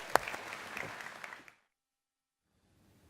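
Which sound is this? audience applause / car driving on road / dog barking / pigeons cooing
audience applause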